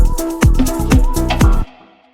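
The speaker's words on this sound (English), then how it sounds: "It's called the Bode effect." An electronic music beat run through a Bode frequency shifter effect, loud pulsing hits in a steady rhythm with gliding, pitch-shifted tones that swoop downward after each hit, then cut off abruptly.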